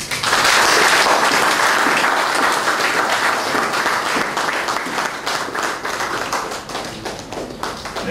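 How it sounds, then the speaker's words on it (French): A congregation applauds at a baby's baptism ceremony, a dense, steady wash of many hands clapping that stays loud and fairly even throughout, with no talk over it. "applaudir pour lui."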